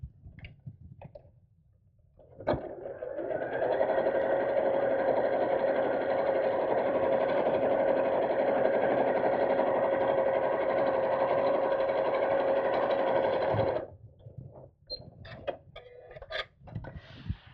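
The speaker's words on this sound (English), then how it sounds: "I'm just going to top stitch straight across the top seam" A sewing machine runs steadily for about eleven seconds, top stitching straight across the top seam of a fabric purse organiser craft bag, a loud continuous mechanical hum that starts and stops abruptly, with faint handling noises around it.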